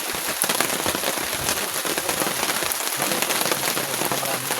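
Steady rain drums on a generic tent pitched on a hilltop campsite at Splendor Hills overlooking Taal Lake. The patter is dense, even and close, and it fills the whole stretch without a pause.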